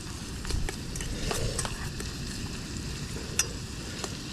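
Onions and garlic sizzle steadily in a pot over a camp stove, a close continuous crackle broken by a few scraping stirs and a sharp clink.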